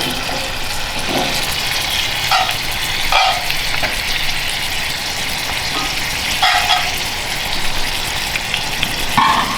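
A sandhill crane leg frying in a hot pan, a steady loud sizzle and crackle throughout with occasional brief scraping or stirring knocks.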